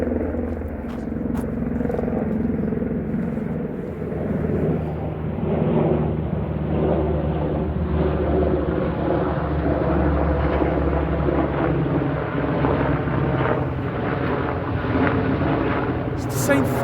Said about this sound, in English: That fucking helicopter's coming back.